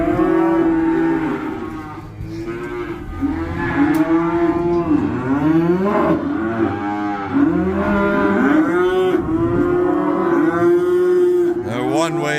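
Calves being loaded into a trailer for shipping, mooing repeatedly in overlapping, drawn-out calls, loud and close, with several animals calling one after another.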